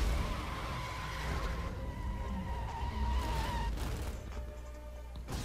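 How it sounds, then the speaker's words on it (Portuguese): Modded Bugatti Veyron in Need for Speed Most Wanted, its engine note swapped for a Ford's, roars steadily and loud throughout a race, with tire squeal and skidding noise mixed in. "Pode até ver que o ronco dela tá do Ford, não tá igual da Veyron, de verdade."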